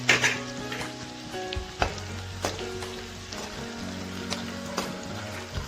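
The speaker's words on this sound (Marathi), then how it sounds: "याच्यात आपण आता थोडं थोडं घालून डिंक तळून घेऊया।" Edible gum (dink) frying in hot ghee in a kadhai, added a little at a time, gives a steady close sizzle with scattered crackles and pops and no talking.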